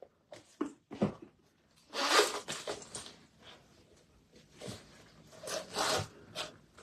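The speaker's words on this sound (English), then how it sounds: "Wee Mickey Mouse zips and two different compartments." Zippers on a Mickey Mouse Disney bag with two compartments are pulled open and shut, a series of close, scratchy zipping bursts with short pauses and rustling between them.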